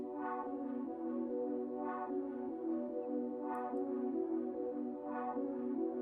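A sustained synth pad from the Analog Lab preset Sauce, played dry with no effects, holds soft, steady chords that pulse gently in a slow rhythm at a moderate, even level.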